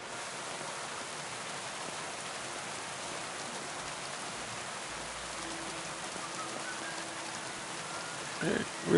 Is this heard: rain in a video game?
yes